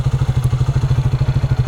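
Triumph Speed 400 motorcycle idling close by, a steady loud rhythmic low thumping pulse with a faint rattle on top, no voices.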